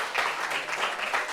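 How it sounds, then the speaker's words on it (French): A studio audience applauds a guest, a dense, fairly close burst of clapping that rises and falls slightly over its short length. "Applaudissements pour elle, s'il vous plaît."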